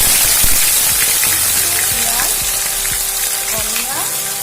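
A paste of ground coriander, cumin and dried chili sizzles loudly in hot refined oil in a kadai with bay leaves, for Hyderabadi chicken masala. The frying hiss is steady and close, with a few scraping stirs and soft clinks, and no speech.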